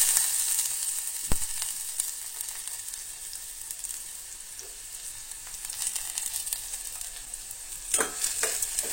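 Chopped onion sizzles steadily in hot oil in a home kitchen pan, a soft continuous crackle with a few sharp clinks of a stirring spoon.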